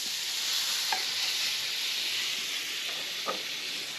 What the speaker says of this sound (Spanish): Y esta la depositamos en el mismo sartén que acabamos de sacar el pollo.